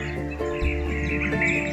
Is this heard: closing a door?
no